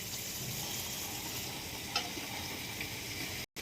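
Bread pieces fry in a pan until browned for double ka meetha, an Indian sweet. A continuous close sizzle holds steady, with one brief clink partway through.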